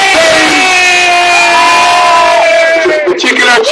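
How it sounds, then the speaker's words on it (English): A large crowd at a political rally about workers' protests and general strikes roars and cheers loudly and continuously, with sustained yells and whoops that start to thin out near the end. "Particular cheer for the Portuguese working class."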